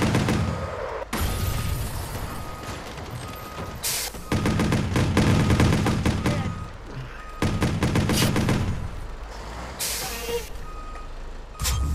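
Bursts of automatic gunfire from a Watch Dogs shootout, loud and close, arriving in dense rapid volleys with brief gaps, over a constant low rumble of game noise.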